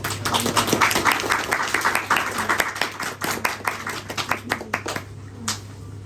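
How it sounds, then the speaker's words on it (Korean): A group clapping in blessing at a year-end winter solstice gathering, brisk and fairly close, thinning out into scattered individual claps near the end over a steady low hum. "우리 책수 친구들 예매의 빛에 축복의 박수를 바랍니다"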